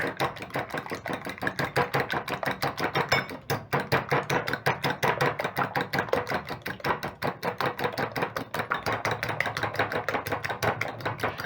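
Egg mixture with black pepper being whisked briskly in a bowl, producing a fast, even train of sharp clicking taps that runs close and loud throughout with no voices.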